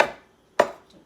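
A knife chopping chicken soup ingredients on a board makes two crisp, close chops about half a second apart, each a short woody knock.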